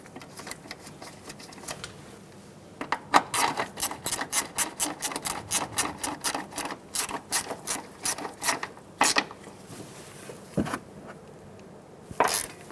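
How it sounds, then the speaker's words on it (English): A ratchet clicks in quick rapid bursts while snugging down a bolt on the ABS bracket of a 2007-2011 Toyota Camry front steering knuckle, close and clear, then trails off into a few isolated clicks. "Snug the bolt down."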